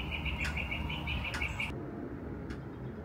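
Birds chirp and tweet in bright, repeated calls outdoors during a walk, fairly close and clear over a soft background hiss, with no talking.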